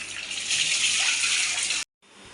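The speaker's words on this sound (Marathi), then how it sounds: "सगळं मी धुवून घेते चांगलं आणि स्वच्छ धुवून घ्यायचे" Water pours and splashes as brinjals are washed, a steady close gushing flow that cuts off abruptly near the end before faint handling sounds resume.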